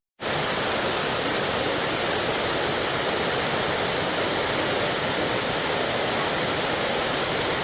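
A waterfall near Chiang Mai or Chiang Rai in Thailand gives off a steady, dense roar of falling water that stays loud and even throughout, with no voices over it.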